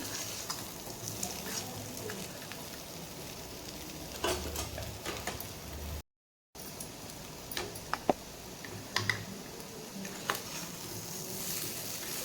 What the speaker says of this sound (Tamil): உருளைக்கிழங்கு நல்லா வறுபட்டுடுதுங்க.